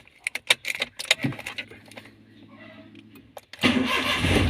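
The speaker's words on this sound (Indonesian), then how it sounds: "terus mesin dihidupin" A car engine cranked with the key as part of a brake pedal check: light clicks and key jingles, a whirring starter for about two seconds, then the engine catches and runs loudly.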